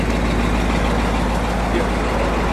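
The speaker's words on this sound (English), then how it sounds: "And there's your dual exhaust" A 1967 Chevrolet Chevy SS 427 Super Sport rumbles through its dual exhaust with resonators, a loud, steady, deep idle drone close by, with voices partly mixed in.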